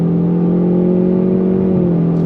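A 2026 Ford Mustang turbo sport coupe with a performance exhaust drones loudly and close-up under throttle, its engine tone steady and sustained, easing slightly near the end.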